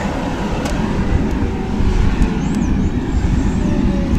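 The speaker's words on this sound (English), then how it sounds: "Metro bus." A city metro bus passing on a St. Louis street, its loud, steady engine rumble and road noise close by, with brief hiss and squeal from brakes.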